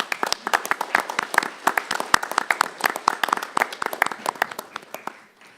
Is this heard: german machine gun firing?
no